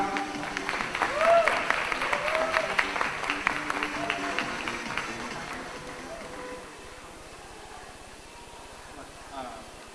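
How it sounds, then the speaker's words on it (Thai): Audience applause at a launch event for the Facebook online game Great King City, a dense clapping wash that swells early, then thins and fades after about six seconds, with a speaker's voice running over it. "ในโอกาสนี้ผมขอเสียงปรบมือนะครับ"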